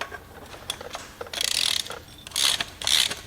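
A spanner works the flywheel bolts on a Massey Ferguson 135 crankshaft: several quick, close metallic ratcheting clicks in short bursts, with quiet gaps between them.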